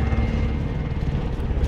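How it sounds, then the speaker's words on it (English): Enemy attack helicopter in Call of Duty: Warzone, a steady, loud rotor-and-engine drone that holds without a break throughout, with no talk over it. "Enemy attack chopper is in the AO."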